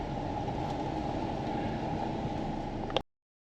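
Train ride toward Portsmouth Harbour, a steady loud low rumble of the carriage rolling along the rails heard from inside, ending abruptly after about three seconds.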